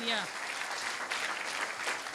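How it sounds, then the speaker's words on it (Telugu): A church congregation claps loudly, a dense, continuous burst of hand claps filling the room, with a voice briefly heard at the start. "చప్పట్లు కూడా బిగ్గరగా దేవుని నామాన్ని కనపరచాలి"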